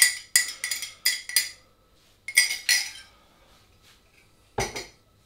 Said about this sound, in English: I'm going to mix it now with a spoon